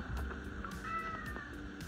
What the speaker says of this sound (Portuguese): Até o gato tá chorando, ó.